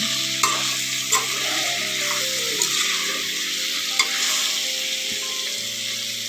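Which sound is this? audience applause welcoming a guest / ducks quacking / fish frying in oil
fish frying in oil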